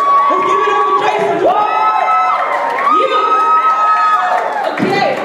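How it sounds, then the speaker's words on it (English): An audience cheers and whoops for Jason, with shouting voices sliding up and down in loud, sustained bursts and a little clapping mixed in, close and continuous throughout. "Let's give Jason a round of applause, everybody."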